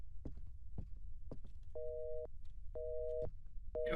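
Phone line tone in a horror video game, three evenly spaced flat beeps of a busy signal repeating about once a second, over low thumping footsteps and clatter.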